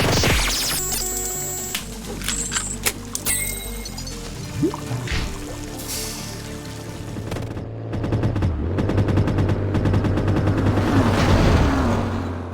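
Gunfire in the post-apocalyptic VR shooter Drive-Through Explosions, with bursts of sharp shots and rapid automatic fire over a busy game soundscape of clanks and a low engine-like drone, loud and close throughout.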